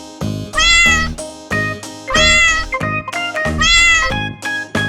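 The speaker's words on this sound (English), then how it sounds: "That's right, it's a cat." Three loud, drawn-out domestic cat meows in a row, each a clear rising-and-falling cry with short gaps between, close and alone.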